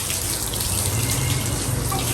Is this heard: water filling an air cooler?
yes